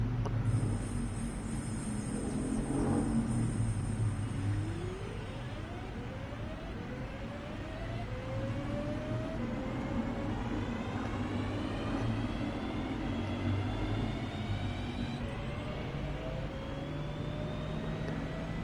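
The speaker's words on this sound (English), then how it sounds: "I'm going to be silent whilst this train takes off so you can fully appreciate how strange it sounds" Train pulling away and departing, a long steady rumble with rising whining tones as it accelerates, loud and continuous throughout with no talking.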